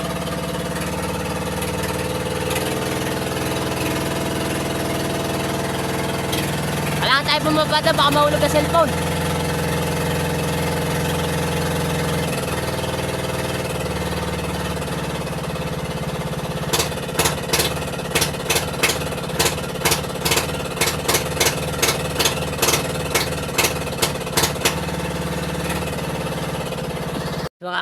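Motorboat engine running steadily with a low rumbling drone under people talking, then a rapid series of sharp rhythmic knocks or bursts repeating through the latter half.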